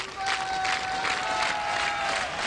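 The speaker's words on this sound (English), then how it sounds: "Crowd picking up behind her." A crowd at a women's bowling championship applauds in a steady wash of clapping, fairly loud and sustained, with a thin tonal hum running underneath.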